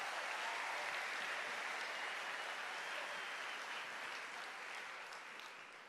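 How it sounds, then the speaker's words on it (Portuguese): Steady, dense applause from a church congregation at a Catholic youth camp, clapping loudly and evenly for the whole stretch and easing slightly toward the end. "Vamos aplaudir a palavra de Deus bem forte"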